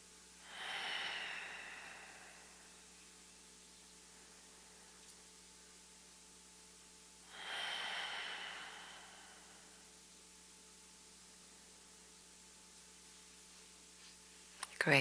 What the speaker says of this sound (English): And stay for your long, slow breaths.